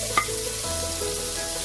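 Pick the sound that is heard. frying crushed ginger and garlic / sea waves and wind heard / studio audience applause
frying crushed ginger and garlic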